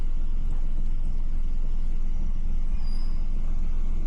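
Vehicles pass close by in dense hill-station traffic in Ooty, a continuous low engine rumble with brief higher whines rising over the drone.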